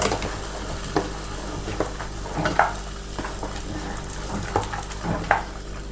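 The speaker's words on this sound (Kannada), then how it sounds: "ಇವಾಗ ಇದು ಫ್ರೈ ಆಗಿದೆ ನೋಡಿ, ಇನ್ನು ಇದಕ್ಕೆ ಹಾಕ್ಕೊಳ್ಳೋಣ. ನಾವು ಮಿಕ್ಸ್ ಮಾಡ್ಕೊಳ್ಳೋಣ." A spoon stirs fried ingredients in a pan for spicy Tamil Nadu-style pongal. Scraping strokes come at a loose, repeated rhythm over a low sizzle.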